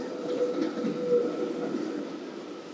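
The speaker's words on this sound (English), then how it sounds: "I think we'll have to wait for the tram to pass here." A tram rumbles past nearby on a Helsinki street in winter rain, with a steady low drone and faint whining tones, fairly quiet and continuous; no one speaks.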